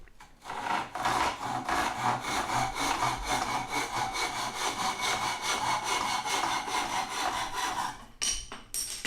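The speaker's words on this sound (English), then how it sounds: "Then I just saw all the way through with that." A hand saw rasps back and forth through a thick wooden dowel rod, steady rhythmic strokes close up for about seven seconds before the cut finishes and a few knocks follow.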